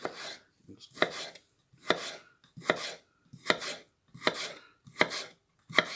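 A knife cuts potatoes into french fries on a cutting board, about eight evenly spaced, close chopping strokes, each a crisp slice ending in a knock on the board, with near silence between.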